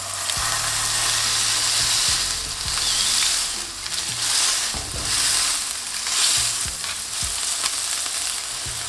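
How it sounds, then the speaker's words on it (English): A meatball smashed into a hot oiled pan sizzles loudly and close, a constant crackling fry that swells and fades in gentle waves, with a few low thuds and scrapes from the press and no talk. "when the pan is nice and hot, I'm gonna throw in the meatball. And you wanna smash that."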